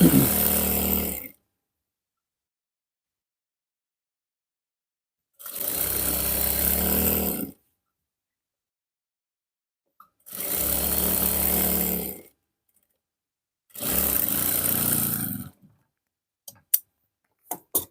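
A sewing machine stitches a joint seam on pajama trousers in several loud, whirring bursts of about two seconds each, with silent pauses between them and a few faint clicks at the end.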